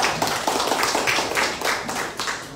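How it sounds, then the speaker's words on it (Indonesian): An audience at the Nasdem party's 10th anniversary celebration in Merauke claps together, a dense, close burst of applause with sharp individual hand claps throughout. "kita beri tepuk tangan"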